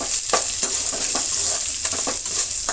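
Chopped onions added to a hot pan of oil for pumpkin sambar, giving a loud, continuous close sizzle broken by regular stirring scrapes, with no voices.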